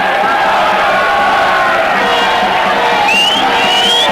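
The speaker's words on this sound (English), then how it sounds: "Great crowd. A lot of Dutch supporters behind the goal to our left." Stadium crowd at the 1994 hockey World Cup final between Pakistan and the Netherlands, a loud, dense roar of cheering and shouting that stays steady throughout, with a few whistles rising above it near the end.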